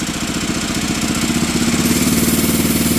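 Bolens Husky 800 garden tractor engine, revived after sitting parked for 14 years, runs with a steady, loud, rhythmic chugging idle that holds on alone for the whole stretch.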